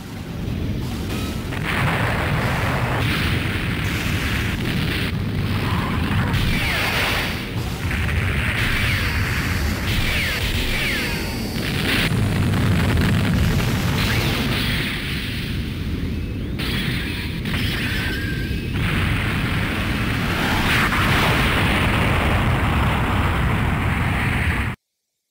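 Blasting of the asteroid Axis in a Mobile Suit Gundam Char's Counterattack game on PlayStation: a long, dense roar of rumbling booms and bursts, loud and continuous with shifting intensity, ending abruptly.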